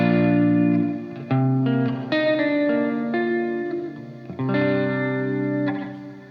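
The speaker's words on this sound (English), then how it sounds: "That one's the rise algorithm. It doesn't hit you immediately with the reverb effect" Electric guitar played through a Micro Dark reverb pedal on its rise algorithm, a sustained run of notes and chords whose reverb swells in gradually rather than hitting at once, with a lush chorus-like tail, loud and close, no talking.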